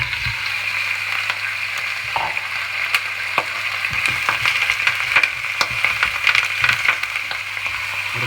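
Rabbit meat fries in ghee in a pan over medium heat, sizzling in a steady hiss with scattered crackles and pops. Occasional scraping knocks come from stirring.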